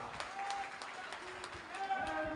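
Audience applause honoring Waman Meshram at a Shudra kranti political rally, a steady wash of clapping from a large crowd under ongoing voices, fairly distant and even throughout.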